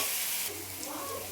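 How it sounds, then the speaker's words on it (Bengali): Garlic paste frying in a pan for a goat meat curry gives a steady, close sizzling hiss throughout, with no talking. "রসুনটাকে দিয়ে ভালোভাবে ভেজে নেবো।"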